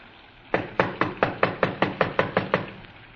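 Knuckles rap on the door of a small redwood house in a radio drama sound effect: a rapid, evenly spaced series of about ten sharp, close knocks, heard alone.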